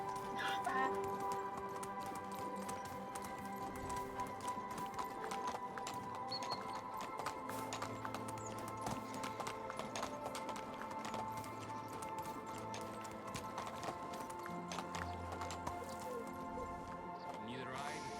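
Donkey hooves clip-clop steadily on the ground in the medieval village game Medieval Dynasty, a continuous rhythmic patter beneath ambient game music and background sounds.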